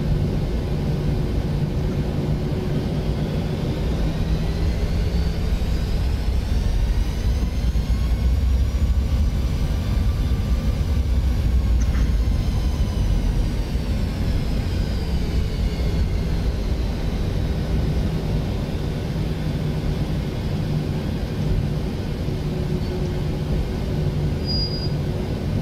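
An airliner takes off in Microsoft Flight Simulator X, with a loud, steady engine roar and a rumbling low drone that holds throughout while the pitch of a whine rises and falls, and no talking.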